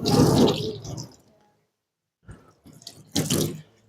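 Water poured over a body from head to feet during the ritual washing of the deceased: a loud splashing pour, then a short silence and a second run of splashing pours close by.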